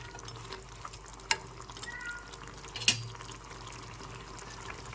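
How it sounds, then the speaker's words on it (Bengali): Small fish curry with radish and potato simmers quietly in a pan while being stirred, giving a soft bubbling and scraping bed broken by two sharp utensil clinks against the pot. "মাছগুলো দিয়ে একটু নেড়েচেড়ে মিশিয়ে ফুটিয়ে নিতে হবে"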